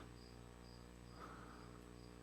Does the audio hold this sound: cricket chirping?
yes